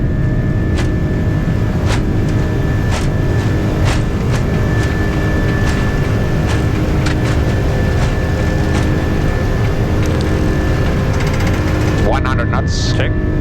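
Airbus A330 jet engines of an Air Greenland airliner spool up for takeoff at Copenhagen, a loud, steady broadband roar with a constant whine, alongside intermittent cockpit voices and clicks.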